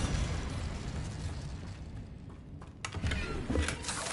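A Bombarda spell explosion in Hogwarts Legacy during a final battle, heard as a dense, loud rumbling burst with crackling debris and layered combat noise throughout, flaring again near the end.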